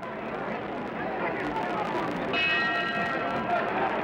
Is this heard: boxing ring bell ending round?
yes